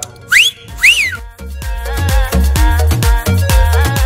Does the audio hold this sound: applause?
no